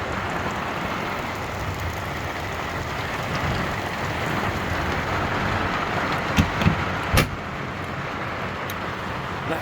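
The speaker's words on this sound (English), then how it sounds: "Well, it's raining," Heavy rain pours down steadily outside a cargo van conversion at a park campsite in Granbury, Texas, a dense continuous hiss with a few louder drips and knocks late on.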